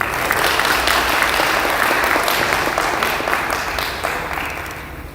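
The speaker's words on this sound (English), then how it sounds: "So please help me warmly welcome with a round of applause Dr." A seated audience at a health awareness program in a gurdwara applauds to welcome a doctor, a loud, dense patter of many hands that holds steady and then slowly fades.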